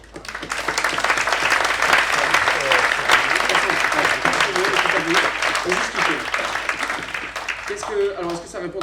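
A conference audience on memory applauds loudly and steadily for about nine seconds, a dense wash of many hands clapping, tapering slightly at the end, with a few voices heard beneath it.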